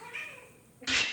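A small cat meows faintly and briefly, followed by a louder burst of noise at the end.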